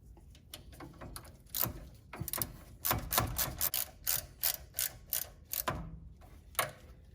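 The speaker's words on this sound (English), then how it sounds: "So I'm going to tighten the bracket back now." A ratchet tightens a brake line bracket on a Porsche Boxster, giving bursts of quick mechanical clicks in uneven runs, close and fairly loud, with no talking.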